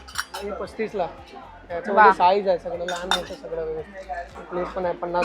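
Small, heavy steel bowls clink and clatter sharply as they are picked up and handled at a wholesale utensil shop, close and bright, with someone talking over them.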